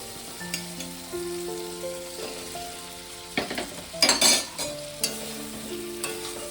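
Paneer cubes stirred in a frying pan of Paneer Manchurian sauce with tomato ketchup, bursts of scraping and clinking over a steady sizzle, with a few louder stirring strokes near the middle.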